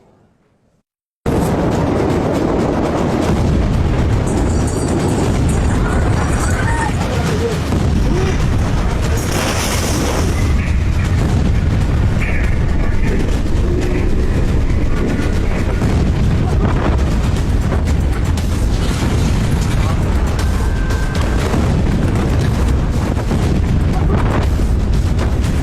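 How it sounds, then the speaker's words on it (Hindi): A battlefield explosion blast erupts after a brief silence into a sustained, heavy rumbling roar with crackling debris and booms lasting over twenty seconds, loud and dense throughout. "ऐसा ब्लास्ट जिसे कभी नहीं पाएंगे भूल।"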